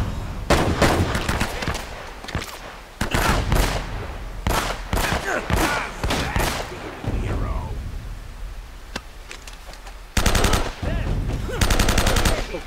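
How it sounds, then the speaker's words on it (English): Gunfire in the video game Uncharted: Drake's Fortune, with loud bursts of shots and rapid automatic fire in clusters, separated by brief pauses, plus a faint background voice. "See, now you know I'm making a shot"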